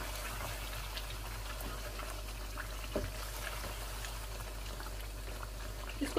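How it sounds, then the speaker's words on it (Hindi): Onions and bell pepper cooking in a pan over high heat, a steady soft sizzle with faint crackles throughout and no talk. "इसको 2 मिनट मैंने तेज़ आग पे पकाना है ताकि ये प्याज थोड़े से ना सॉफ्ट हो जाए"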